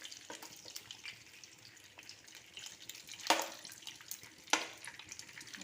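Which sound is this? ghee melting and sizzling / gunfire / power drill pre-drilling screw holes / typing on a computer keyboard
ghee melting and sizzling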